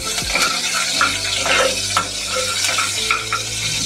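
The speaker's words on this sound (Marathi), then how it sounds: "मोहरी घेते थोडीशी टाकून। आता हे आपण ढवळून घेऊया।" Mustard seeds sizzle and crackle in hot oil in a pan on low heat while a spoon stirs them, with steady frying hiss and a few scraping strokes throughout, close and fairly loud.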